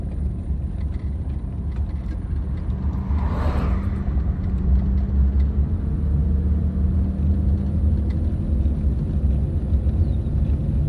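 A car driven in first and second gear during a beginner's driving lesson, a steady loud engine rumble and road noise from inside the cabin, with a brief passing whoosh partway through.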